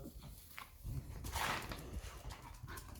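Dogs whimper and yip softly in the yard beside a roofing job where bitumen shingles are being laid, with faint rustling and movement nearby.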